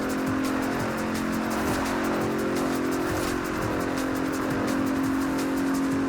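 A 2017 Bentley Continental Supersport in Forza Horizon 4 roars at high revs, a steady loud engine tone with some tire squeal, sustained and close throughout with no talking.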